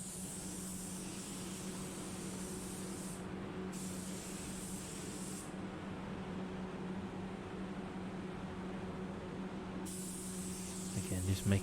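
Spray gun laying a second coat of black paint on a car, a steady soft hiss with brief pauses as the trigger releases, heard faintly over a low constant hum.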